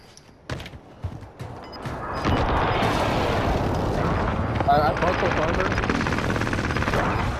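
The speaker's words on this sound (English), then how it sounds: "Friendly precision airstrike inbound" Heavy rumbling precision airstrike explosions in Warzone, a continuous loud barrage building after a few sharp pops and holding steady, with voices talking over it.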